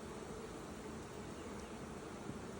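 A continuous close hum of many honey bees rises from an open hive while brood frames are moved between boxes, even and unbroken with no voices.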